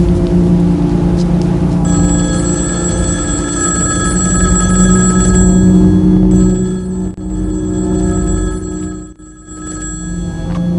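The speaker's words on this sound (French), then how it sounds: "Je vais téléphoner à Gacy à tout hasard." A telephone rings on an outgoing call, repeated steady ring tones over a loud, constant rumbling background that dips briefly near the end.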